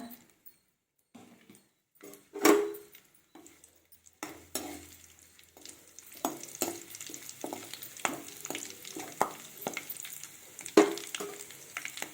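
Curry leaves, mustard seeds and dried chilies crackle and sizzle in hot oil, with sharp popping bursts over a steady frying hiss and occasional clinks of a stirring utensil.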